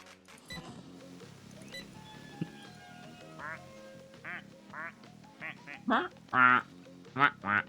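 Ducks quack in a video game, a series of short nasal calls growing louder and more frequent toward the end, with scattered game sounds underneath.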